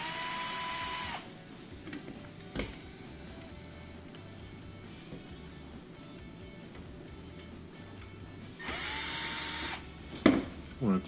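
A power driver whirs in two short bursts, loosening Phillips head screws from a Frigidaire oven door with broken glass, separated by a long stretch of quiet handling and faint clicks.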